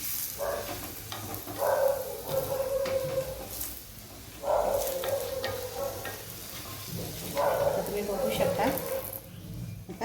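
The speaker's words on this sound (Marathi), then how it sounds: "थोडं व्यवस्थित तूप लावून छान असं भाजून घ्यायचं आहे" Lachha paratha roasting with ghee on a hot pan, giving bursts of close sizzling and frying that rise and fade in repeated waves, with a voice talking over the cooking.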